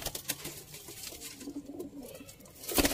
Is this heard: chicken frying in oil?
no